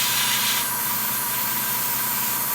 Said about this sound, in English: I need to spray from this direction.